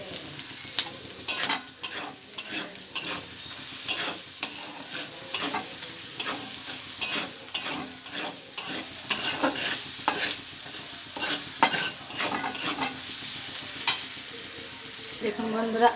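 Onions fry with salt in a pan, a steady sizzle broken by frequent rhythmic scrapes and knocks of a spatula stirring them, close and fairly loud, with nobody speaking.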